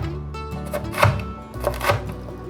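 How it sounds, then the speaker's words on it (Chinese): A knife slicing red bell pepper into strips and dice on a cutting board, two crisp chopping strokes against a background of soft board sounds. "把红甜椒切条，换个方向切丁"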